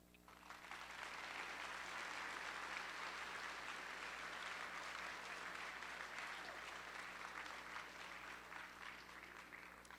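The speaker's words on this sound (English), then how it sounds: "And another round of applause for our veterans we are so thankful for." Sustained applause from a crowd at a high school Veterans Day ceremony, a steady wash of many hands clapping that swells in quickly and holds evenly throughout, heard from a distance.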